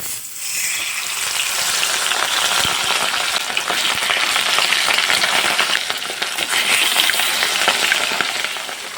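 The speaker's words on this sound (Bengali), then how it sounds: "এবার আমি মাছের পিস একটা একটা করে তেলের মধ্যে ছাড়বো" Rui fish pieces frying in hot mustard oil give off a loud, steady, crackling sizzle with dense spitting pops that holds throughout, close up and with no voices.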